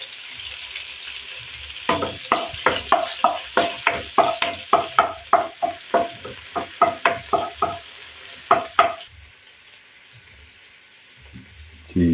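Garlic hitting a hot wok for spaghetti gisado, with a quick run of sharp scraping stirs and crackling sizzle over a soft hiss, close by, then the stirring stops and the hiss fades to near quiet.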